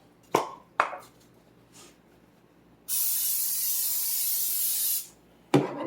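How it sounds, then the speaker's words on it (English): Cooking spray hisses out of a can into a hot cast iron skillet in one steady burst of about two seconds, close and loud, with a few sharp knocks and clatters before and after. "we're going to put some cooking spray in here."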